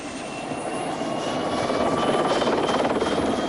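A helicopter takes off from a beach in Mallorca, its rotor chop and turbine whine loud and steady, growing slightly stronger as it lifts, with no voices.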